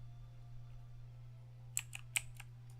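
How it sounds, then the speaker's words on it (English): A computer keyboard resting on a lap gets a few quick, sharp keystrokes in a short burst near the end, following a quiet stretch dominated by a steady low electrical hum. "Keyboard on the lap, Maddie."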